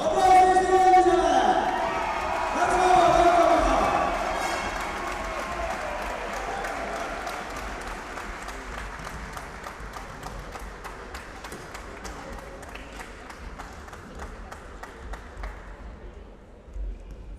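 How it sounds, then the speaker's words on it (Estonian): Applause and cheering from the crowd at an Estonia versus Turkey volleyball match in Tallinn's Kalev sports hall, loud at first and then settling into steady clapping and crowd noise that carries on throughout. "Aplaus Eesti koondisele!"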